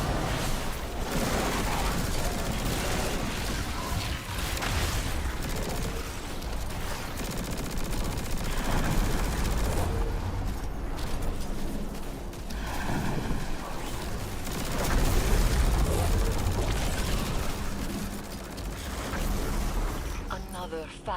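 Dense, continuous gunfire in a sci-fi shooter video game fighting Taken enemies crackles and booms loudly throughout, with bursts and explosions layered under voices speaking.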